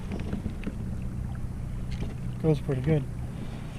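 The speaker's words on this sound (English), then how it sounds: "This is the motor behind me." A DIY kayak trolling motor hums steadily on calm water behind the paddler, a low drone under light wind rumble while someone speaks briefly.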